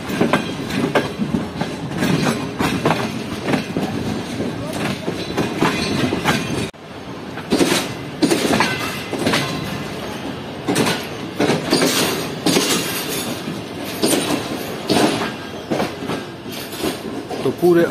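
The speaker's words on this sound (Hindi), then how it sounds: "हमेशा की तरह प्लेटफॉर्म नंबर 1 पर लिया जा रहा है ट्रेन को।" The Karachi Express rolls into platform 1 at Hyderabad Junction, loud rhythmic clickety-clack and rumbling wagon noise heard close from inside the last coach, with a brief dip midway.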